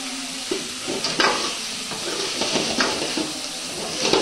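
Chicken sukka fries in oil in a pan, a loud close sizzle with stirring scrapes and bursts of crackle, no talking.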